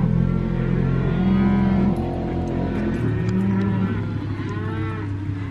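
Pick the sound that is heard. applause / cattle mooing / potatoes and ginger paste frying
cattle mooing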